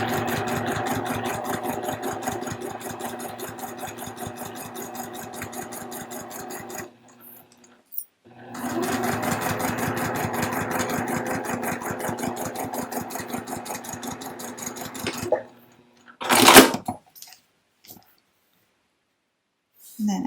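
A sewing machine stitching a zipper pouch made from fat quarters, two long runs of loud, steady rhythmic needle hum broken by a pause, then a short clack and silence.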